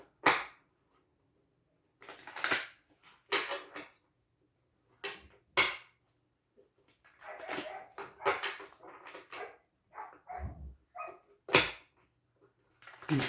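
A family dog barks and yelps in loud, scattered bursts while playing outside with a boy, with short whimpers and quiet gaps between the outbursts.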